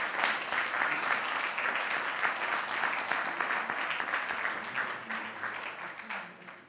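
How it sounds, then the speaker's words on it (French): An audience applauds the participants of a round table discussion: dense, continuous clapping from a sizable crowd that holds steady for several seconds, then thins and fades near the end. "Je vous demande d'applaudir les participants à notre deuxième table ronde."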